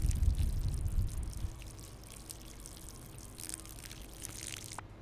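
Water being poured to fill a container for plants in Schedule I, a soft running pour that is louder and fuller for the first second and a half, then thins to a quieter steady trickle with faint drips.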